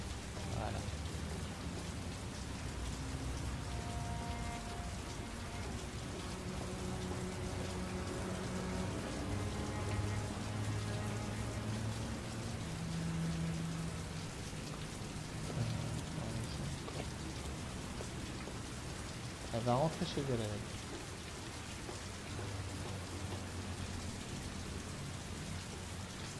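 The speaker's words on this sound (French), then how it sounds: "Bon, il pleut beaucoup, hein." Heavy rain pours down in a steady, dense hiss that fills the whole scene, with people talking throughout over the downpour.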